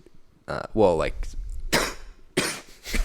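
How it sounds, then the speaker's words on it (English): A few sharp coughs in quick succession, close and fairly loud, with short pauses of near silence between them. "I can't because I'm coughing"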